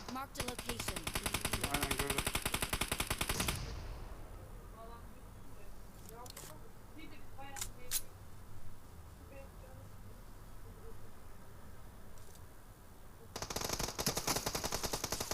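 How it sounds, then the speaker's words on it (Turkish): Gunfire in PUBG Mobile on the Sanhok map: loud bursts of rapid automatic fire open and close the stretch, with a few single sharp shots between them and players talking. "Oha nereden vuruyor lan beni?"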